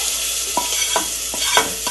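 Jackfruit pieces hit a hot pan of jackfruit curry and sizzle steadily, with a continuous bright frying hiss and a few soft stirring clinks, no voices.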